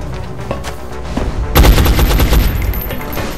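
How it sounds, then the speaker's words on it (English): Soldiers open fire in XCOM: Enemy Unknown, a sudden loud volley of rapid machine-gun shots that erupts partway in, rattles for about a second and then fades into echoing reverberation. "Alright, let's fire one more time."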